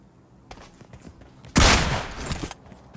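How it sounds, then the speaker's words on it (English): In a video game, an AK rifle fires a sudden loud burst of automatic gunfire at bots, lasting about a second after quieter footsteps and movement sounds. "I'm just gonna kill these bots with AKs"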